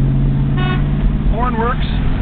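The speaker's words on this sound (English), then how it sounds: "Horn works." A 1955 Studebaker car horn sounds in two short toots with a wavering, slightly bending pitch over a loud, steady idling rumble, close to the microphone.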